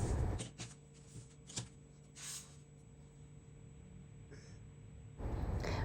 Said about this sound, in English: we're just cutting 8-inch squares.